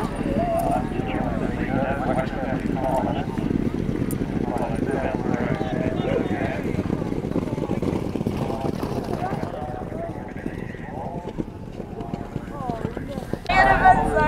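Horses galloping on the flat at a point-to-point race, a steady rumble of hoofbeats running through the whole stretch, with people talking over it.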